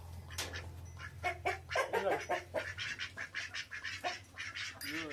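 Chickens cluck and squawk in quick, irregular bursts close by, over a low steady hum in the background.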